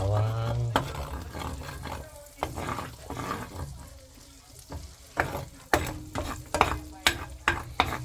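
Garlic and butter fry in a pan for buttered shrimp, a close sizzle broken by sharp clatters and scrapes of a utensil against the pan, with a low hum early on and spells of quieter cooking.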